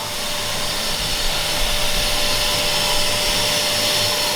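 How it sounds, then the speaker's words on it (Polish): A new Blue Delfina vacuum cleaner in a flat under renovation runs with a steady, loud, high-pitched whine and airy hiss, constant and unbroken with no voices. "Nowy odkurzacz Blue Delfina"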